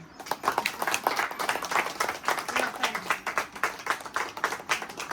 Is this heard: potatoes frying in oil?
no